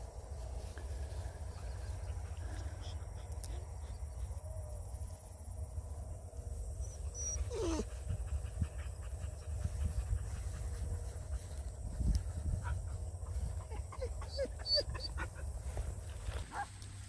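Young puppies pant and shuffle close by, with soft breathy bursts, small whimpers and a few yips over a low rumbling background, fairly quiet and continuous.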